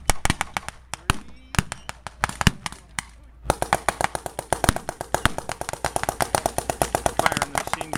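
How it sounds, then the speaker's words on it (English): A tank-mounted machine gun fires at a World War II reenactment, delivering rapid, sharp bursts of blank rounds that run almost continuously with brief breaks, loud and close, while people talk at times. "Firing the machine gun on that tank."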